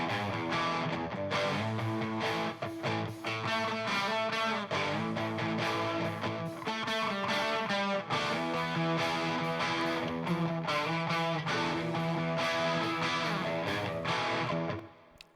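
Rhythm guitar driven through a Slate FG-Stress compressor at a 3:1 ratio with distortion and a high-passed detection circuit, playing a dense, continuous distorted part that stays loud and even throughout before cutting off at the end.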